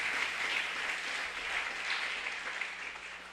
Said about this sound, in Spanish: Dale ese aplauso a Jesucristo el Señor, que Él se lo merece